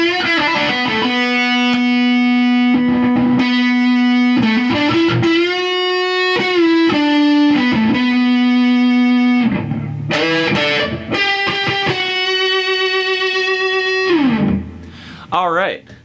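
Heavily distorted electric guitar played through a boost into a distortion pedal, sustained single notes and bends, loud and saturated, with short pauses between phrases.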